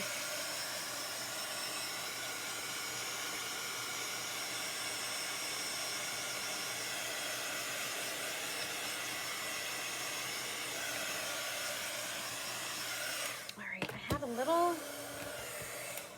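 Blow dryer drying chalk paste on a Chalk Couture craft project, giving a steady, continuous close-up rush of air that holds for most of the stretch, followed by a brief clatter of handling noise near the end.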